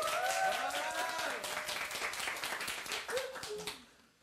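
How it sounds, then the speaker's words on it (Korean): Studio audience clapping during a live regional TV broadcast, a brisk burst of many hands that starts loud, stays full with some tonal voices or music underneath, then thins and fades out at the end. "박수!"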